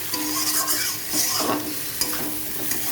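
Spice paste for a curry being stirred and fried in a pan, with a continuous close sizzle broken by scraping strokes of the spoon against the metal.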